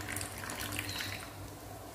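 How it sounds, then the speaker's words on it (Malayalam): Water pours steadily into buttermilk in a kitchen, a continuous close splashing rush lasting the whole moment. "കുറച്ച് വെള്ളം ഒഴിച്ച് കൊടുക്കുക."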